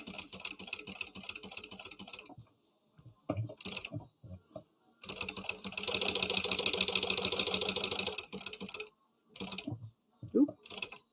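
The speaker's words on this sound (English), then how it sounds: "I'm going to sew on the little credit card pocket" Sewing machine stitching a small credit card pocket onto a Moondance bag, running in steady rapid bursts, with a long continuous run in the middle, broken by pauses and soft handling clicks and rustles.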